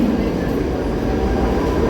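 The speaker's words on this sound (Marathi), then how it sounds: "प्लॅटफॉर्म क्रमांक बारा पर आई लोकल आठ बजकर छियालीस मिनट की मुंबई छत्रपति शिवाजी महाराज टर्मिनस जाने वाली तेज लोकल है" A Mumbai fast local train bound for Chhatrapati Shivaji Maharaj Terminus pulls in at platform twelve during the monsoon, a loud, continuous low rumble of wheels and carriages with no pauses.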